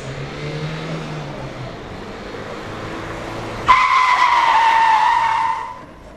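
A car braking hard from 50 km/h at a road safety demonstration in Limoux, a loud sustained tire squeal and skid rising abruptly after a rolling engine approach, then fading as the car stops.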